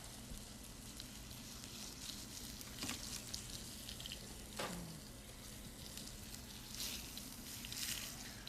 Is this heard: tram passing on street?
no